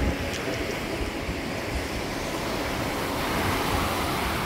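Ocean waves breaking on a rocky shore at Myrtle Beach, South Carolina, a steady loud wash of surf with wind noise, no voices.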